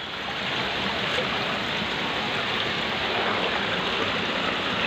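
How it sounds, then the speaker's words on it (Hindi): Water from a waterfall pours steadily inside a temple, a dense, continuous rushing roar that stays loud and unbroken throughout with no voices over it. "झरना है अंदर से।"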